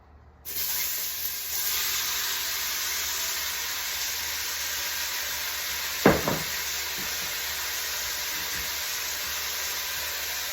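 White onion hits a hot pan while cooking udon tofu curry, setting off a sudden steady sizzle and hiss that continues throughout, with a brief clatter midway and no talking.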